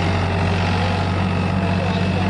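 A New Holland 3600 tractor engine running during a field demonstration, a steady loud diesel drone with a constant low hum, under a voice talking.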